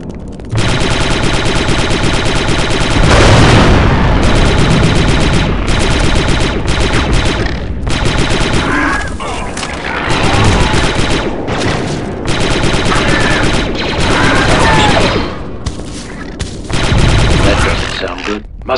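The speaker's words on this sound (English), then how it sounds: "Must be the battle upstairs." Sustained blaster gunfire from a battle in Star Wars Republic Commando, loud and continuous with rapid bursts and volleys over several seconds, with some voices under the shooting.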